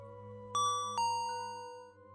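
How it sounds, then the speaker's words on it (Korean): A bell rings in a study hall, sounding as a bright sound effect: two quick metallic strikes in a row, each with a clear ringing tone that fades slowly, close and alone. "그때 마침 또 종소리가 울리는 겁니다"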